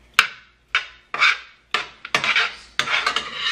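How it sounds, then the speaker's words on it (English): Potatoes being stirred in a pot, a series of separate scraping, rasping strokes at irregular intervals, close and fairly loud, with quiet gaps between them. "I'm just continuously coming back and stirring it"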